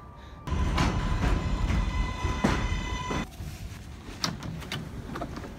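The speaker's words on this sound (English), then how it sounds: "This is a Manhattan bound 7th local train." A Manhattan-bound 7 local subway train at a New York station, with steady loud rumbling and rail noise throughout, a sustained tonal whine, and a few brief clanks and door-like thumps near the end.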